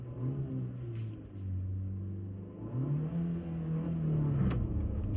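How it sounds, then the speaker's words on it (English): A 2024 Maruti Suzuki Brezza VXI engine revs up repeatedly to 5000 rpm, its pitch climbing high and falling back between pulls, fairly close and unaccompanied by talk. "So it revs all the way to 5000 rpm."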